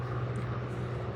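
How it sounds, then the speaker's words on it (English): A helicopter flies overhead, heard as a steady, loud rotor and engine drone that stays constant through the brief moment, with no speech. "That helicopter just really distracted me."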